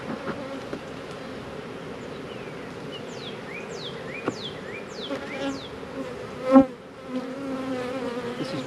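Honeybees from a defensive hive, opened during an Amitraz mite treatment, buzz in a dense, continuous drone, with individual bees zipping close past the listener. No one speaks.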